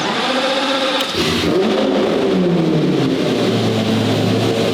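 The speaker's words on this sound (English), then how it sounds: "This thing starts without the clutch, huh? Yeah, it actually does." A car engine running loud and close, revving up and then settling toward a rough idle, with a sustained throaty drone that falls in pitch.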